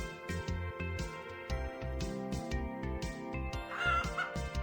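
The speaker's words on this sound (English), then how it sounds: "Feathers fly as chickens squawk and scatter." Video game chickens squawk and cluck in agitated bursts as they scatter from a coop, over a loud, busy background, with a sharper cry toward the end.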